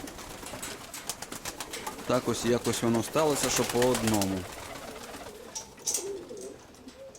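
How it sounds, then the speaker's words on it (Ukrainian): Pigeons cooing in a home loft, a pair of paired doves giving a run of soft repeated coos at moderate distance while someone talks over them. "Ну ось вони сидять, ці дві голубки."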